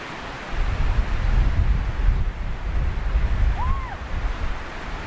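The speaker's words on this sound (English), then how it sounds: "it's freaking crazy windy cold out here" Strong, cold wind roars and buffets the microphone in a continuous rumbling gust while snowshoeing, with a brief faint whistling tone near the end and no voices.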